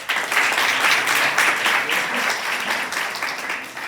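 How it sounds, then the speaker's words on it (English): A classroom of students applauds a classmate, dense steady clapping from many hands that fills the room at close range throughout, without a break. "Clap for him."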